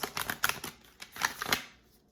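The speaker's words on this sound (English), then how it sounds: "I'm going to get one from Rebecca Campbell's Mercury Light Oracle, and then I'm going to get some angel cards." Oracle and angel cards being shuffled by hand: soft, quick riffling flutters in a few short bursts, close and fairly quiet, with no talking.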